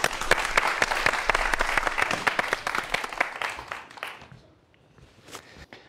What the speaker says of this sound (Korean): 박수로 한번 청해 보도록 하겠습니다